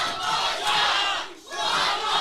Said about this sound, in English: The crowd calling for one more to Derek James from Sam Stackhouse